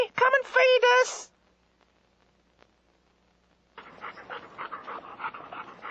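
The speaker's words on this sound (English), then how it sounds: "I think these puppies need their tea" Hungry puppies whine and pant in a burst of high, wavering cries at the start, then fall quiet before a softer, noisier stretch of panting and shuffling follows.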